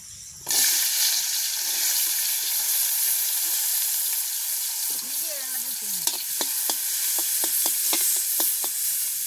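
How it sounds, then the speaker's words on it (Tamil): Onions fry in oil in a hot pan, giving a loud, steady close-up sizzle throughout, with a few light taps and clicks of a utensil near the end. "எங்களுக்கு இப்போ சட்டி சூடறிடுது நாங்கள் அளவாக எண்ணெய் விடுவோம்"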